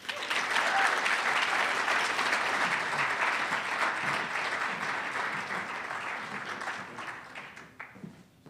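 A room full of people applauds and cheers for a speaker's introduction at an academic leadership event, with steady, dense clapping and whoops that stay loud before tapering off near the end.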